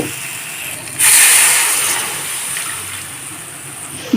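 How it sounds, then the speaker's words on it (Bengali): Water comes to a boil in a pan over a high gas flame while making jujube (kul) chutney with salt and sugar: a loud hiss surges up suddenly, then slowly eases into a softer, steady bubbling rush. "জলটা ফুটতে শুরু করেছে আর গ্যাসটাকে হাই ফ্লেমে করে দিয়েছি"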